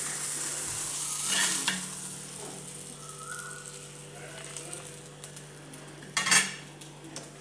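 Rava-coated bangude mackerel fries in a pan with a steady close sizzle, broken by a few sharp clinks of a utensil scraping and lifting pieces, loudest near the start and again toward the end.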